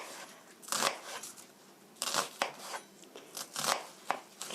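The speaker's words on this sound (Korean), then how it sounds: "앞은 그냥 붙여놓은 채로 스코어 칼집을 넣어주세요" An onion being scored with a knife, leaving the front end attached: a series of crisp cutting and crunching strokes in irregular bursts, close and fairly loud, with no talk.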